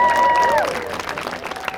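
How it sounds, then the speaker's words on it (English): Audience applause at a children's party magic show, a steady burst of clapping and some cheering from a small crowd, with a brief voice over the opening moment before the clapping tapers slightly. "Give me a big round of applause."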